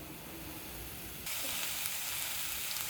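Methi sukat bhaji, fenugreek leaves with dried fish, sizzles steadily in a pan, a continuous close hiss that turns noticeably louder and brighter partway through, with no talking.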